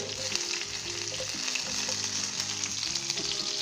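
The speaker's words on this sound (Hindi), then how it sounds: "इसके अंदर सबसे पहले हम चॉप किया हुआ अदरक डालेंगे, प्याज डालेंगे।" Chopped ginger and onion sizzle and crackle steadily in hot vegetable oil, a close, even frying hiss throughout with faint stirring and no voices.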